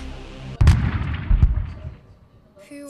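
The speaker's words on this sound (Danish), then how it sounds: "Det er ikke noget bolsje, det er en bombe. Smid den! Den springer nu!" A bomb detonates with a sudden loud blast, followed moments later by a second heavy boom, and then the rumble fades away into quiet.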